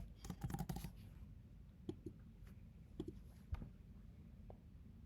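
Light, sparse clicks of typing on a computer keyboard on a Mac during a software installation, a quick burst followed by scattered single keystrokes, faint and close with no talking.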